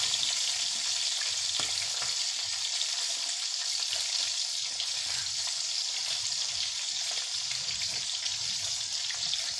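A dish simmering in a pan, a steady dense bubbling and sizzling hiss that carries evenly throughout, fairly faint and uninterrupted.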